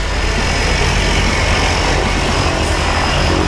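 Propeller airplane used as a skydiving jump plane, its engine droning loud and steady at close range on the ground, with no talk over it.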